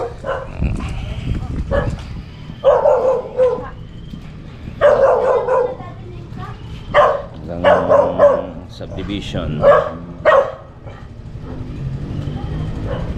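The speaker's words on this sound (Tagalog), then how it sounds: "may aso." A dog barks repeatedly in short bursts along a street in a residential subdivision on the walk toward a tricycle terminal, while someone talks nearby between and over the barks.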